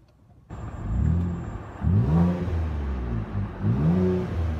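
A 2013 Ford Explorer V6 engine with the muffler removed revs hard several times, a raw, unmuffled roar rising and falling up close, with no voices.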